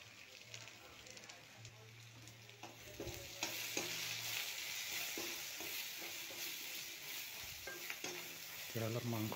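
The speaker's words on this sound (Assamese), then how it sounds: "ধনিয়া, জিৰা, ৰেড চিলি চব একেলগে দি ভাজি ল'ম।" Coriander, cumin and red chilli frying together in a pan for a sesame pork dish, a steady close sizzle with repeated stirring scrapes and clinks, and a low hum underneath throughout.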